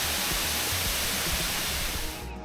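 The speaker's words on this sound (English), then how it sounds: "there's a famous waterfall here" A famous waterfall in Bhutan roars as a steady, dense broadband rush, loud and continuous throughout with no voices, easing slightly at the very end.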